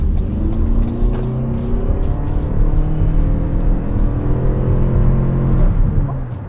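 A 2024 Lexus NX 350h hybrid in sport mode accelerates onto a highway, heard from inside the cabin as a loud, steady engine drone and road rumble that rises and swells gradually.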